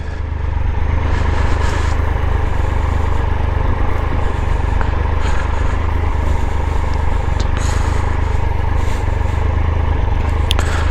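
A Triumph Tiger 1200 motorcycle eases slowly downhill on the Killin Loop, its engine holding a steady, close, low rumble throughout with no speech.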